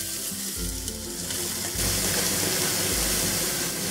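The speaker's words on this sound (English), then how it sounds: "So we're going to let this cook until the onions and the jalapenos sweat a little bit and soften up." Garlic, onions and jalapeno fry in oil in a pot at medium-high heat, giving a loud, steady sizzle close up that swells as the pieces are stirred, with no voices.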